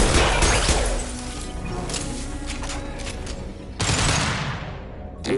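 Sniper rifle fire in the Mass Effect 2 video game, with sharp loud shots and crashing bursts in a dense battle mix, a second heavy blast near the end.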